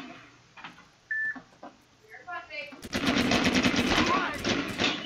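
Semi-automatic gunfire in a video game starts partway in as a rapid, loud string of close shots that keeps going with brief breaks, after quieter beeps and a short yelp.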